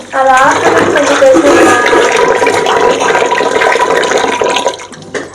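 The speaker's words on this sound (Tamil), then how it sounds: "சரி, அரிசி கழுவுறேன்." Rice rinsed in water for grinding into batter, a loud close rush of running and swirling water that continues for several seconds before cutting off, with a voice briefly heard.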